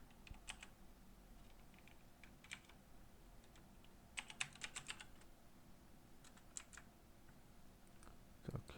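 Computer keyboard keys typed in bursts of quick clicks separated by pauses, entering accounting data in a quiet room with faint low hum.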